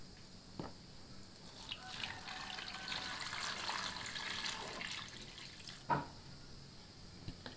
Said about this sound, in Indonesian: Selanjutnya kita akan cuci bersih.